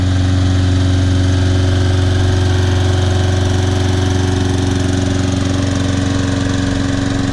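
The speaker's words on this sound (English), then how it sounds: "Like a brand new lawnmower." The small engine of a Toro Personal Pace Recycler lawn mower runs steadily and loudly throughout, a continuous droning hum, with no talking.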